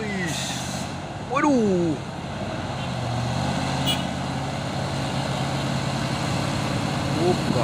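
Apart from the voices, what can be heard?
trailer trucks carrying containers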